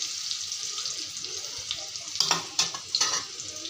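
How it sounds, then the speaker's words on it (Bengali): Potatoes frying in hot oil in a home kitchen, a continuous sizzle with a few sharper stirring scrapes and spatters near the end. "আলু ভাজা হয়ে গেছে, এই তেলে এখন পেঁয়াজগুলো দিয়ে দেব"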